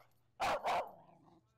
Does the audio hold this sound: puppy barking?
yes